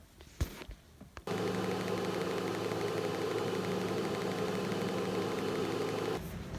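Steady TIG arc welding a gap with ER70S2 filler rod, a continuous buzzing hum that starts abruptly after a brief clank and holds evenly for about five seconds before cutting off.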